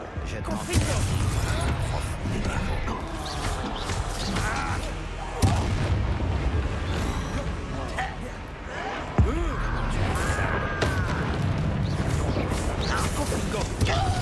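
Confringo fire spell blasts in the Hogwarts Legacy video game, repeated booming explosions over a dense, busy game soundscape with sharp impacts recurring every few seconds, alongside a speaking voice.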